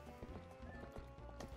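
Horse hooves clip-clop in a steady gallop rhythm in The Legend of Zelda: Twilight Princess HD, loud and close over game music, with a brief whinny-like tone.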